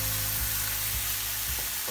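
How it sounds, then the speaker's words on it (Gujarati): Salted ridge gourd sabzi sizzles steadily in a pan while being stirred, a constant close frying hiss with a few soft scrapes of the spoon, no talking. "મીઠું ઉમેરી દઈશું અને ફરીથી એક વખત હલાવી લઈશું."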